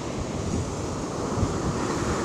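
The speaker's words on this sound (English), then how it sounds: "the ocean, the tide is really strong." Strong ocean surf rolls in at a beach, a continuous broad roar of breaking waves mixed with wind buffeting the microphone, steady and close throughout.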